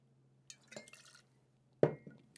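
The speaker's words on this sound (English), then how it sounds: "Rinse out the jigger." A metal cocktail jigger rinsed under water at a bar, short splashes and clinks with a sharper rattling knock near the end, close and quiet against a faint steady hum.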